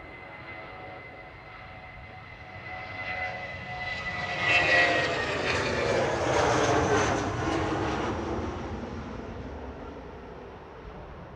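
A small propeller plane passes overhead at Manchester Airport in strong gusts, its engine drone swelling from a distant hum to a loud roar before slowly fading away.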